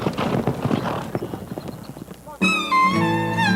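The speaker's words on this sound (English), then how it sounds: "Billy takes a custom-made horse out for a spin." A thoroughbred horse on a farm clip-clops in a quick run of hoofbeats, close and fairly loud, followed by a sharp shift to other sound.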